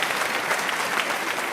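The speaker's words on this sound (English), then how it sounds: "thank you, digital applause" Dense, steady applause at a theatre awards presentation, a continuous wash of many hands clapping with no gaps.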